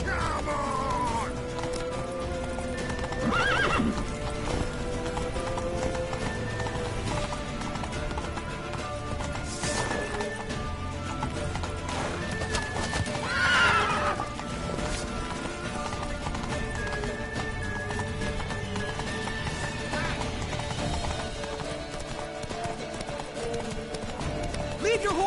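A horse gallops and whinnies in The Witcher 3 on PS4, with steady hoofbeats running through a dense mix of game sound while voices shout over it.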